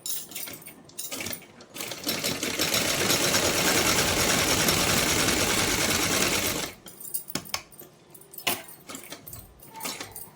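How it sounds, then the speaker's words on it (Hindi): A sewing machine stitching a small summer dress for a Laddu Gopal idol runs in one loud, steady burst for about five seconds. Handling clicks and rattles of cloth and parts come before and after it. "इस तरह से सिलाई लगा लेंगे।"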